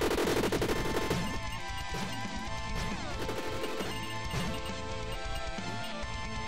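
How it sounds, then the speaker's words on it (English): Dense, continuous clattering and crashing from a weapon fired underwater in the PC game Cavern Kings, muffled and warbly, with repeated impacts throughout. "Underwater makes a funky sound when you fire."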